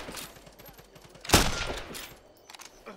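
Gunfire in the video game Block N' Load: a quick run of light shots, a louder blast in the middle, then a few scattered pops, all fairly soft and close.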